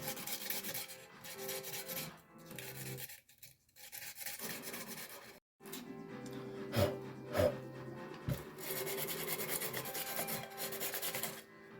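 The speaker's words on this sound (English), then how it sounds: "you can take a little piece of sandpaper and just go around the edges like this" Sandpaper rubbed around the edges of resin woodgrain glass drinkware, giving close, continuous raspy scraping strokes with brief pauses and a few knocks, no talk.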